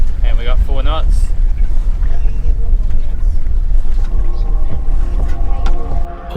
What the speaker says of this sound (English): We just found our wind and we got 4 knots.